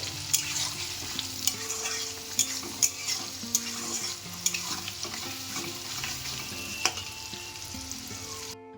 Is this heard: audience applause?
no